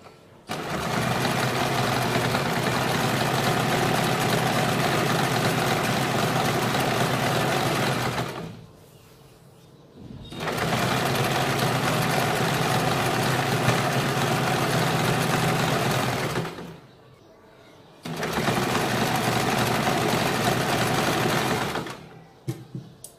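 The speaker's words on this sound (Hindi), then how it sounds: "उसके बाद वापस हमें इसके ऊपर डबल सिलाई लगानी है" A sewing machine runs double stitching along a kurti seam in three long, steady bursts of whirring motor hum, each stopping briefly before starting again, close and fairly loud with no talking.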